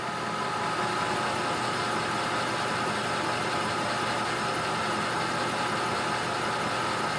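A metal lathe turns a Morse taper MT4, taking light passes of about fifteen thousandths; a steady, dense broadband machining whir with a low motor hum runs continuously and fairly loud, with no voices.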